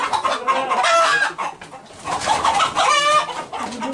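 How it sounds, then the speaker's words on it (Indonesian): KUB (Kampung Unggul Balitbang) chickens and a cockerel at a poultry farm with its own hatchery in Kupang, NTT, Indonesia, clucking loudly and continuously as a close flock, with busy overlapping calls and no clear talk. "Ini ayam pejantan ya?"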